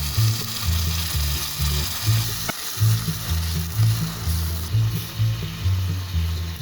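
Ground onion, tomato and green chilli paste frying with golden garlic in oil for cholay salan, a loud steady sizzle over a rhythmic low mechanical churning, with one sharp knock partway through.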